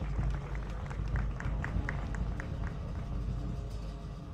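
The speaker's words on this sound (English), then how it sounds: "And a round of applause for the Minister of Lands and his team." Audience applause at a government ceremony for the signing of ministerial performance contracts, a sustained patter of many hands clapping with a low room rumble beneath, moderately loud and steady without talk.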